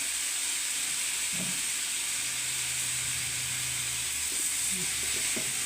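A whole eggplant fries in hot oil, giving a continuous, even hiss and sizzle that stays loud and steady throughout, with a few faint knocks in the background.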